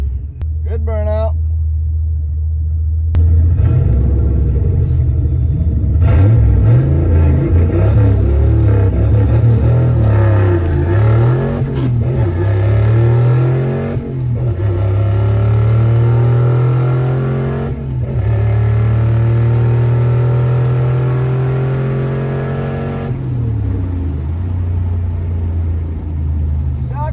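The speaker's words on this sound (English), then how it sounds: "Good burnout." A turbocharged Ford Foxbody doing a burnout at a drag strip, its engine rumbling loud and close, then revving up and holding a sustained, wavering roar for some twenty seconds before dropping back to idle.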